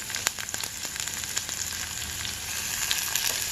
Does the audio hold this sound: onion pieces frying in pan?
yes